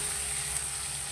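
A whole green chili sizzles in hot oil, producing a steady, soft crackling hiss close by with no voices.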